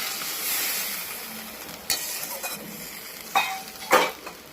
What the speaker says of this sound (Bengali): সামান্য একটু জল দিয়ে দিলাম।